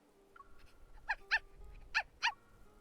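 A small dog in the game Love & Deepspace gives a few short, high whimpering yelps in quick pairs, close and clear over a quiet background.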